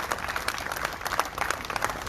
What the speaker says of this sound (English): I think they deserve a louder round of applause